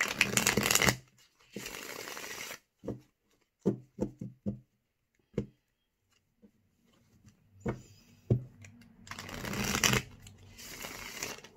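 Tarot or oracle cards being shuffled and drawn: loud riffling bursts at the start and end, with a string of short soft flicks and taps as cards drop in between, close up and without speech.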